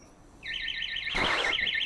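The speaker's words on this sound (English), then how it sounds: "Oh god, now we've got someone's burglar alarm going off." An alarm starts up, a warbling electronic siren rising and falling rapidly, loud and persistent, with a thud or door sound partway through.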